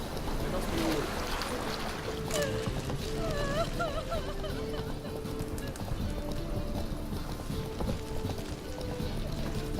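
Horse hooves clip-clop at a gallop in The Witcher 3, a steady rhythmic pounding over ambient game sound, with a few short whinny-like tones and some voice early on.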